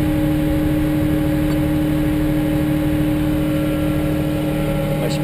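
A tractor engine runs steadily at about 1500 RPM while powering a Westfield auger at harvest, a continuous loud drone with a steady hum and no change in pace.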